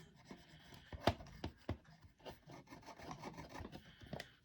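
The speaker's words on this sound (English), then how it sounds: "Let's go inside the tunnel here and clean it out just a bit." Quiet scratchy rubbing and light clicks come from wiping grit out of a fishing reel, an irregular series of close, faint scrapes with one sharper knock.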